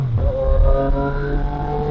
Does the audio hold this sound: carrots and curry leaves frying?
no